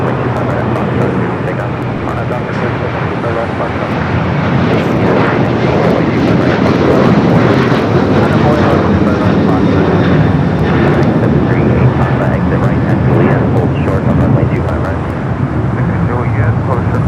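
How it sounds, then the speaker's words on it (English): Japan Airlines Boeing 787-9 Dreamliner arriving from Tokyo Narita at Los Angeles airport, a steady loud jet roar sustained throughout with a voice speaking over it. "So Japan Airlines flight 62, the Dreamliner coming from Tokyo Narita, 787-9 Dreamliner, number 2 for arrival."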